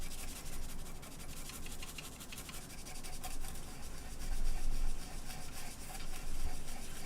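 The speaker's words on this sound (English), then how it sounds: "I'm probably gonna be here scrubbing for a while" Scrubbing a cow skull clean by hand gives a continuous close-up rubbing and scratching texture with faint swells in intensity, steady throughout with no speech.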